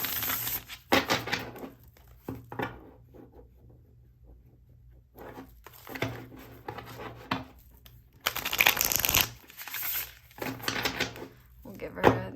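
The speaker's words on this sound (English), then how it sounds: "We'll give her a really good shuffle." Tarot cards being shuffled by hand in bursts of riffling and soft card slaps, with pauses between, close and fairly quiet.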